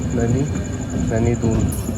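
Doon Jan Shatabdi express passing on the adjacent track at Bilaspur Road railway station, heard from aboard a moving train on the Haldwani to Dehradun route: a steady, loud rolling rumble under ongoing talk.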